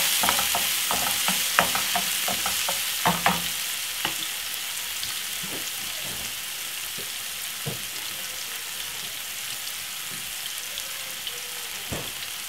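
White oil sizzling in a pan on the stove, a steady bright hiss with scattered pops and crackles, close and continuous, no talking.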